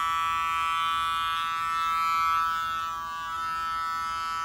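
An electric buzzer wired in circuit during a car starter motor test on the bench gives a steady, continuous electric buzz for the whole stretch, loud and close, with no talk over it.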